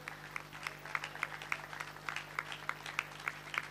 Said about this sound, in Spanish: Nuevamente un fuerte aplauso.